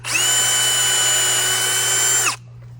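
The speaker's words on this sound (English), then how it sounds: "So we will take that along with our drill to pre-drill a hole" A power drill pre-drills a hole centred in a post for mounting a retractable garden hose reel, one steady high whine of about two seconds that stops abruptly, close and loud, with no talk.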